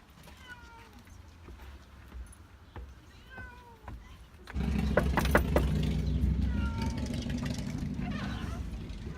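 A house cat meows a few times, clear and fairly close, before a louder broadband noise takes over the second half and buries it.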